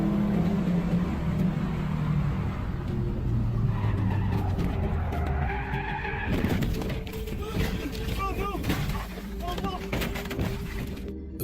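A Subaru swerves hard and skids out of control on a sharp turn just after a tunnel, its tires scrubbing and squealing over loud road and engine noise, with a voice talking over it.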